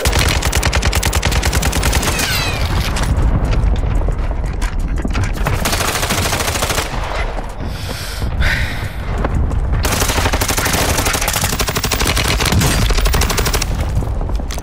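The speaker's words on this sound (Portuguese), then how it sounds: "troca de tiro doida que é essa?" Gunfire in the video game Call of Duty Warzone 2.0, with loud rapid automatic bursts repeating almost nonstop for about fifteen seconds and a short lull near the middle.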